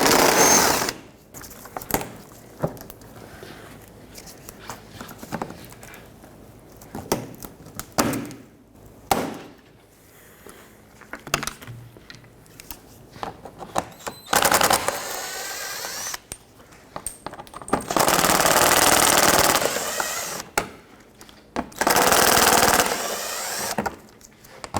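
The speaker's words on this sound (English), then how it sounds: "from underneath the bumper you have some 7mm screws and push clips that go all along. We have to remove all of those." Power tool driving out 7mm screws under the bumper of a Pontiac G6, with short whirring bursts and clicks early on, then longer, louder sustained spinning runs later, close and alone.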